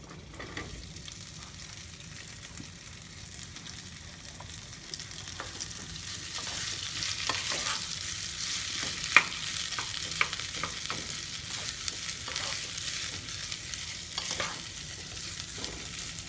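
Boiled, chopped potato pieces sizzling in a pan for a Gujarati farari potato curry, stirred with repeated scraping strokes; the frying hiss grows louder partway through and carries on steadily with no voices.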